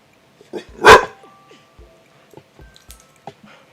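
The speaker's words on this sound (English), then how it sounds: "He's barking way too loud for my ears" A single loud dog bark near the start, followed by quieter scattered thumps and faint sounds in a mostly quiet room.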